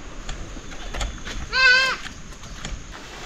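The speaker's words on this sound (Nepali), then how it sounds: "अहिले चाहिँ साथी हो, म बाख्रा लादिछु थुन्नको लागि।" Goats being herded from pasture to their pen in a Nepali village, one short clear bleat heard mid-clip over faint outdoor background noise.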